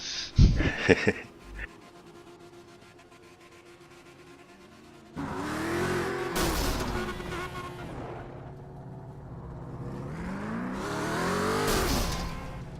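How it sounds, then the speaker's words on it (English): A BMW doing donuts on a roof: after a few brief sharp noises and a quiet stretch, the engine roars in with tires squealing, rising and falling twice in sustained loud bursts. "And I'm doing donuts on my roof"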